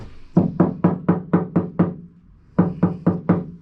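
Hollow knocks on Citroën Relay van metal panels, one with sound deadening mat and one without: a run of seven quick raps, a short pause, then four more, fairly close and sharp.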